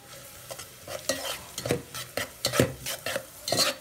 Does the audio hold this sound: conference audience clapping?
no